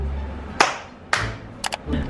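At a first-birthday photoshoot, a one-year-old's hands come together in a few light, sparse claps: two separate slaps, then a quick double clap, over faint background room noise.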